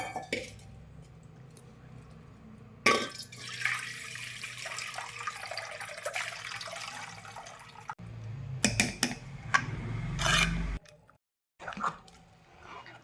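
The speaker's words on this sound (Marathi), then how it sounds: "हे पाणी एका पातेल्यामध्ये काढून घेणार आहे" Water pours and splashes into a pot in bursts while making ghee, with clattering and handling noises between pours, fairly close and without speech.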